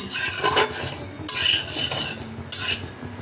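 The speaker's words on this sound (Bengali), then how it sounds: "ডালটা আমার প্রায় রোস্ট করা হয়ে গেছে।" Dal dry-roasting in a pan is stirred with a metal spatula, giving three rhythmic scraping sweeps against the pan with a light sizzle beneath; nobody talks.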